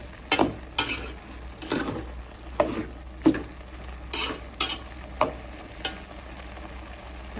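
Cabbage bhaji cooks in a pan. About a dozen spatula scrapes and stirs come at an uneven pace over a low, steady sizzle, heard up close with no voices.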